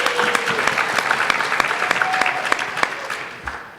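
An audience applauds a guest from the National Basketball Players Association at a Labor Day dialogue between NBA and WNBA player unions, steady clapping throughout with a few sharp individual claps standing out and a faint voice briefly beneath.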